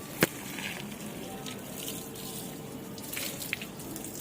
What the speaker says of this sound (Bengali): তো গাছে জলটা দিয়ে নি।